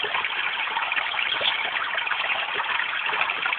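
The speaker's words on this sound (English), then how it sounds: "White noise machine, man." White noise machine playing a waterfall track, a steady broadband rushing hiss that stays even and fairly loud without pause, with no voices.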